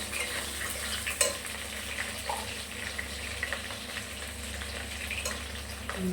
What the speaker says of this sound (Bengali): পটলটাও ভেজে নিই মাছের সাথে।